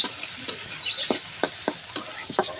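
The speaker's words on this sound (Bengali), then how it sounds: "পেঁয়াজটা এখন বাদামি রঙের ভেজে নেব।" Onions sizzle in hot oil for a Bengali chicken bhuna, with a soft continuous hiss broken by several sharp clicks and scrapes of a spatula stirring the pan, close and fairly quiet.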